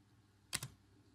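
Two quick keystrokes on a computer keyboard, sharp and close, in a single brief burst against near silence.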